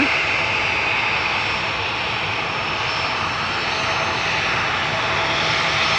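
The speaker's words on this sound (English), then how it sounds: "Rolling start from this 737 going to London Heathrow." Steady, loud jet engine roar from a Boeing 737 on its rolling takeoff start at Amsterdam Schiphol Airport fills the whole stretch without a break, a continuous broadband rush with no voices over it.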